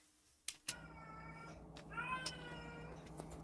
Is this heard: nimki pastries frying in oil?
no